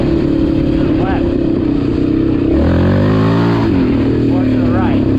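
A 2006 Yamaha Raptor 700 ATV engine revs loudly and rises in pitch during third-gear wheelie attempts, holding a steady drone with a surge in the middle, with someone talking over it.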